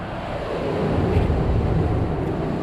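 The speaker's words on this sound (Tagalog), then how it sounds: "Laki ng alon, hangin." Steady roaring wind buffets the microphone over a continuous wash of big waves, heard from a fishing boat at sea, a dense, loud rush with no pauses.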